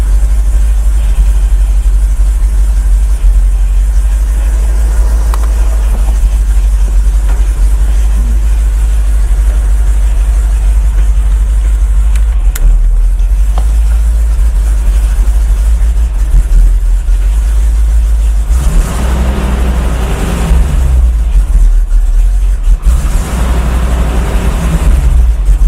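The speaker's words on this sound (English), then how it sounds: "It's idling right about where it should be." A Mercedes 450SL engine, with a newly installed fuel system, idles steadily with a low, continuous rumble throughout, close by, with a slight shift in tone near the end.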